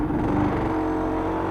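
A Yamaha Banshee 350 two-stroke twin-cylinder quad engine drones steadily under throttle, loud and close, with a buzzy, sustained tone and no speech.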